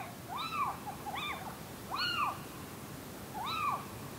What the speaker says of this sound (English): The little owls are busy tonight, but they still find time for a good chatter amongst themselves.